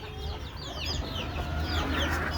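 Free-ranging native village chickens cluck and chatter close by in a short busy burst, several birds overlapping over a low background hum.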